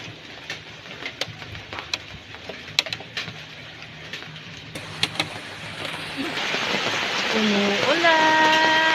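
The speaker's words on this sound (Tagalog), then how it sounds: "Umuulan." Outdoor rain falls near an outdoor cooking spot as a soft, steady patter with scattered sharper drops, growing into a louder wash toward the end as a brief whistle-like tone rises.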